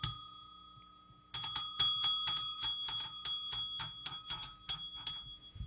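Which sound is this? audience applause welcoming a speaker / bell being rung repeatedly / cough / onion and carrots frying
bell being rung repeatedly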